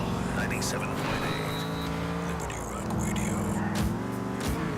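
Car engine in Grand Theft Auto IV droning loudly and steadily, with pitch rising and falling through gear changes and brief tire noise, while someone talks over it.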